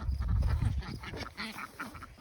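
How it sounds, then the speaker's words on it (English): Several ducks quack in a quick, uneven series, fairly close, with a rumbling low noise at the start and no talking. "The ducks are mad."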